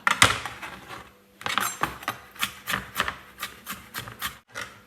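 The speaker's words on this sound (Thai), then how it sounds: "แตงกวาดองค่ะหั่นนะคะหั่นให้มันเป็นชิ้นเล็กๆ" A knife chops pickled cucumber into small pieces on a board for homemade burgers, giving a burst of sharp, close cuts, a pause, then a steady run of evenly spaced chops with no talk.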